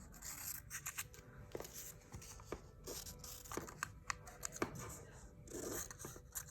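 Scissors snip through paper to cut apart a lowercase letter q, a series of sharp, separate snips and crisp paper rustles close by, with the paper rubbing between cuts.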